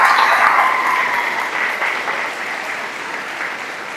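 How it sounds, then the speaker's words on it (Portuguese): A church congregation applauds during a worship service sermon, loud sustained clapping that starts strong and slowly tapers over a few seconds. "Vamos aplaudir o Espírito Santo."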